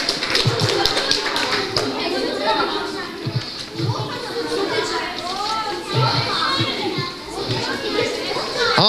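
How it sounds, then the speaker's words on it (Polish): Children applaud at a Christmas Eve gathering in a Franciscan children's aid centre in Głubczyce, with scattered clapping buried under loud, continuous kids' chatter and shouts filling the room. "Brawa dla Kacperka."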